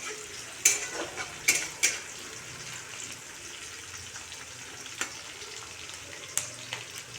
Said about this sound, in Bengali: কিছু লঙ্কা কুচি একটু নাড়াচাড়া করে নেব।